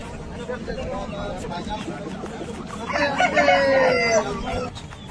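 A 1.5-year-old black Asil fighter rooster lets out a loud, drawn-out crow midway, rising over steady outdoor background noise and nearby human chatter.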